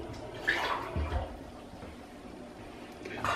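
Water is poured into a cooking pot while chicken stews in red wine, making a gurgling splash that starts, pauses briefly and then resumes, moderately close with no voices over it.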